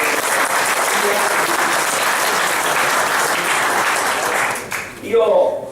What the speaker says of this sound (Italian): Un applauso a chi ci ospita.